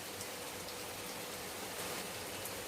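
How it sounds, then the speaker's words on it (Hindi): Early-morning rain falls just after a cyclone, heard from a balcony as an even, continuous hiss of drops on surfaces, fairly soft and steady, with no voices. "एकदम सुबह सुबह बारिश।"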